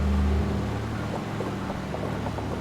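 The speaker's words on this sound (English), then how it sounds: "we don't want the engines making that noise." A steady aircraft engine drone in Microsoft Flight Simulator 2024 hums with a low rumble and faint whine, constant and close, with no voices.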